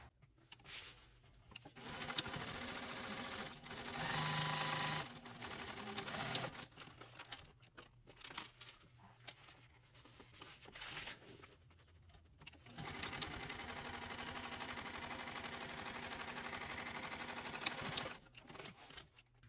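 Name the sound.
sewing machine stitching a bag seam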